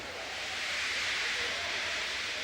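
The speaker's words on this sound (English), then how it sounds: "He just let off steam feebly." A steam locomotive vents steam feebly in a continuous, soft, broadband hiss that holds fairly steady and fairly faint for the whole moment.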